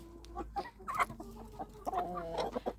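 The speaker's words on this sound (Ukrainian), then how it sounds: "Це курочка марана." A Marans hen clucks and murmurs close by in short, uneven bursts, with a few higher squawky notes mixed in, fairly quiet overall.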